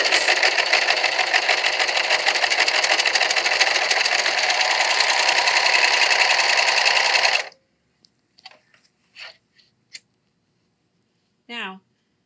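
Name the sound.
sewing machine stitching a fabric face mask seam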